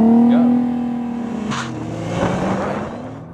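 Nissan GT-R launched with launch control from about four thousand rpm: a loud, close engine roar whose rising pitch shifts through gears, heard from inside the car with a brief voice over it.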